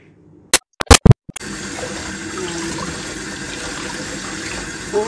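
Running tap water gushes steadily over soaked ingredients that were brined in salt, rinsed in a sink for a Filipino-style dish; a few sharp knocks come first, then a continuous near, even water stream.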